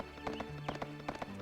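Horse hooves clip-clop in the video game Suikoden 3, a steady run of sharp, evenly spaced hoofbeats over a low music bed, with a faint whinny-like tone mixed in.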